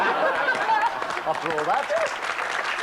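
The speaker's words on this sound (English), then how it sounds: "I don't know why you're clapping" Studio audience clapping on a Cluedo game show, a steady patter of applause with some chuckling, heard under a voice speaking over it.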